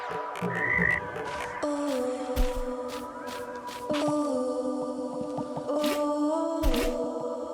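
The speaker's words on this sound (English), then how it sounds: "Because there's a frog over here." A frog croaks repeatedly in the video game Merry Bear, its tonal, slightly whale-like calls rising and falling over a busy backdrop of game music and clicky sound effects, with no talking.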